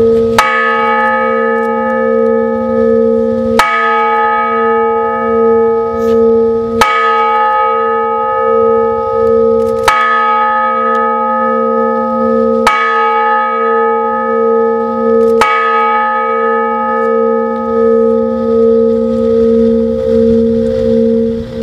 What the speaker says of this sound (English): will be the first tolling of the Honor Bell at Fort Logan National Cemetery